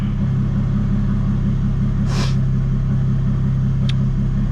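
A big-turbo Toyota Supra with a custom fuel system idles loudly and steadily, a deep even engine rumble close by, with a brief hiss of air partway through.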